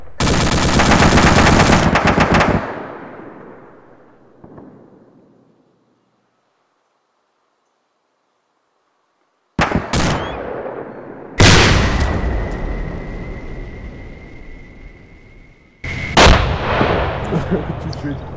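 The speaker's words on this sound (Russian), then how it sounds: "Сейчас Брок будет опять стрелять" Weapons fire in ArmA 2 with the ACE mod: a burst of heavy booming shots at the start, then a lone distant thud, silence, and three more loud blasts with long rolling echoes.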